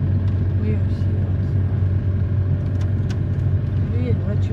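A car drives nearby on a rainy outing, giving a continuous low engine rumble and road hum that stays steady beneath people talking.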